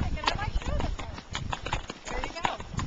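Horse hooves clip-clop in a quick, steady rhythm during a trail ride, close and continuous, with voices talking over the hoofbeats.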